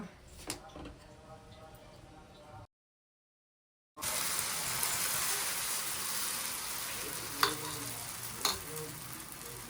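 Green chillies frying in hot oil for a tempering, a steady loud sizzle after a brief gap of silence, with a few sharp pops and stirring clinks near the end and no voices.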